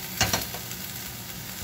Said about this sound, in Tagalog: Haluin natin siya guys.